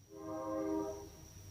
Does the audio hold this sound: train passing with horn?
yes